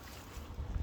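Wind buffeting a microphone outdoors, a short low rumbling gust that swells toward the end, with no speech.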